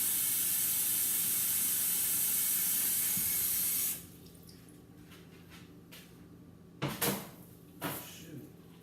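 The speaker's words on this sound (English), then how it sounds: "So I'm just gonna fill some more water up real quick." Water runs from a tap, a loud steady rushing hiss for about four seconds that cuts off abruptly, followed by quieter household clatter and a couple of brief bumps.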